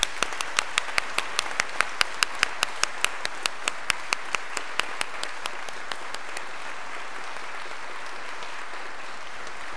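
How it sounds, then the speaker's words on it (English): A church congregation applauds graduates during a Sunday worship service. The clapping starts as a sparse, sharp round and thins out as it goes on. "So let's give these guys a round of applause."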